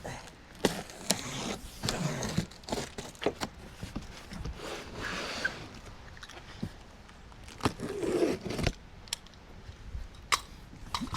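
Unboxing an Outfitr 2-bike e-bike rack (Model 4148): irregular crinkles, scrapes and taps of packaging being handled and cut open, close and moderately loud with short pauses between.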